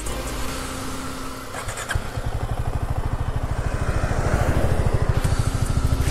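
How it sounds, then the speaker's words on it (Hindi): Husqvarna Svartpilen 250 single-cylinder motorcycle idling with a steady rapid exhaust pulse, then revved so the note rises and thickens, loud and close with no talking. "और ये भाई एग्जॉस्ट नोट सुना देता हूँ,"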